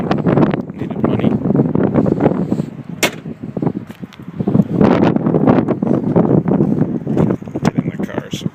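Strong outdoor wind in a snowstorm buffets the microphone beside a car, with continuous gusty roaring and rumbling that swells and dips throughout.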